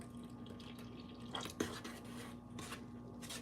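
Milk poured slowly into a small well in the middle of flaky buttery biscuit dough, a quiet trickling and dripping with a few brief louder splashes, no talk.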